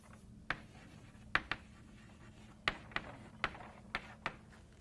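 Handwriting on a board during a math lecture: a handful of sharp, separate strokes and taps spaced irregularly, faint and close, with quiet room tone between.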